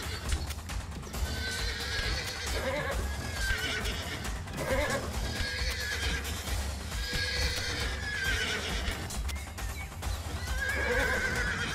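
Horses neighing and whinnying during a video game battle, loud repeated neighs over a steady clatter of hooves and battle noise, with no talking.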